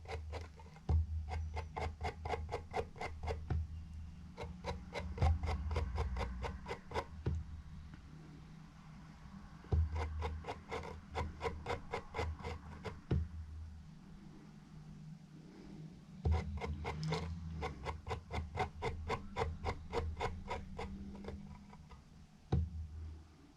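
A small brush scrubbing used vape coils on a GeekVape Zeus X deck, with close rapid rhythmic scratching strokes in several bursts separated by short pauses, no voices.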